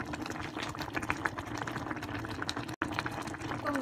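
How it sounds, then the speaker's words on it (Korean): Kimchi stew simmers in a small electric ramen pot, giving a steady close bubbling and hissing boil that runs unbroken except for one very brief dropout near the end. "전기포트로 끓이고 있어요"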